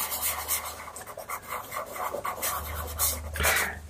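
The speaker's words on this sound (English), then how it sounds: "This has got to be a pretty solid white, like that, and then rub it in." White pastel rubbed into the paper background of a portrait, soft rhythmic rasping strokes close by, repeated back and forth at a quick steady pace.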